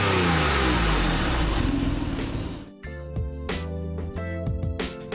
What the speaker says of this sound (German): Nach wie vor unvergleichlich der heisere Ruf des Boxermotors.